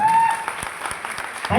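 Applause from an audience honouring a person at an SPS Banmankhi business event, a dense spread of clapping lasting under two seconds with a faint tonal whistle at the start.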